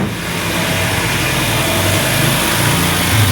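A 2014 Nissan Almera engine idles just after a spark plug change, a loud close steady rumble with even low throbbing and no talk over it.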